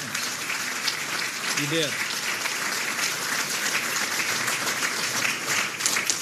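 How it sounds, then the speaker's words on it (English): Political conference crowd applauding steadily for the full stretch, dense continuous clapping filling the room, with a brief spoken phrase near the start. "give yourselves a round of applause, will you?"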